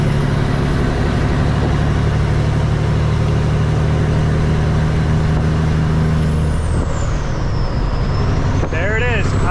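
A Peterbilt truck engine with a failing injector drones loudly and steadily under load. Near the end it drops away into a falling whine and rattle.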